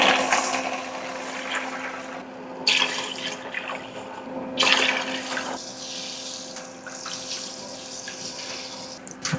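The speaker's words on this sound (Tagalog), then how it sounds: "Dagdagan natin siya ng water." Water runs into a pot of mung beans in a home kitchen, poured in a few steady bursts, with a loud rushing and splashing that comes and goes over a constant hum.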